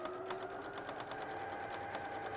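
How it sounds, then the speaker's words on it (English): A sewing machine top stitches down both sides of a fabric bag, giving a close, steady whirr with fast, regular needle ticks throughout and no talking. "So top stitching down both sides"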